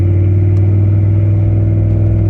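A race car at a drag strip holds a loud, steady high-revving engine drone as the shift into third gear fails, the pitch staying flat and sustained with no break, close and constant throughout.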